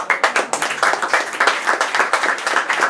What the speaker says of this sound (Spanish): un gran aplauso para Marita